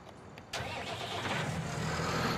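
A tractor engine in Farming Simulator 19 cranks and catches abruptly, then settles into a steady, loud diesel rumble that builds slightly, heard alone without talk.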